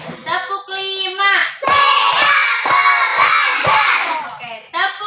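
A classroom of children claps and shouts together in a counted clap routine, a loud group burst of rhythmic claps mixed with voices between the teacher's calls.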